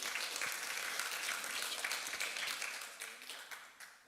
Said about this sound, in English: let's give a round of applause to Ben